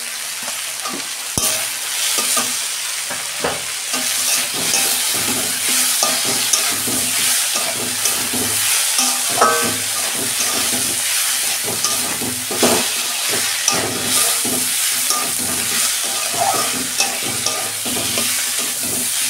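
Spices with greens fry in a pan under constant stirring, a dense close sizzle broken by scattered clicks and scrapes of the spoon against the pan, loud and steady throughout with no voices.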